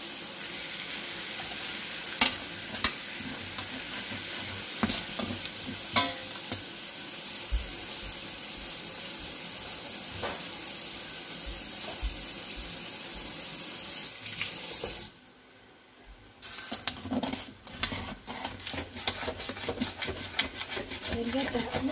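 A spoon stirs and scrapes roux off the bottom of a pot of beef goulash, giving steady sizzling and scraping under a running-water-like hiss, with a short quiet break near the end before the scraping resumes.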